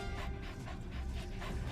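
D-Dog, the canine companion in Metal Gear Solid V: The Phantom Pain, pants in quick rhythmic breaths, close and steady for under two seconds.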